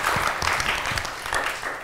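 Short burst of studio audience applause on a morning show about school life, a dense wash of clapping at steady loudness with faint voices underneath.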